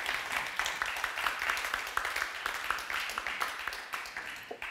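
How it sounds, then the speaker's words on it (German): Audience applause fills a room at a media forum event, a dense, steady wash of many hands clapping with sharp individual claps poking through, sustained for the whole stretch. "Applaus aus dem Raum."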